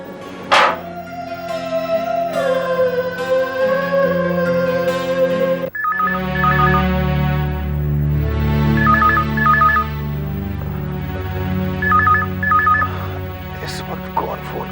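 Telephone keypad tones beep in short rapid bursts, dialed in several groups over steady background music with a sharp chime near the end.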